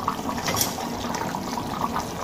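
Bengali-style rohu fish curry broth at a boil as pre-fried fish goes in, a close bubbling, gurgling liquid churn with a few small splashy pulses over about two seconds.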